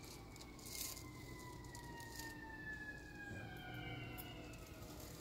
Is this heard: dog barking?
no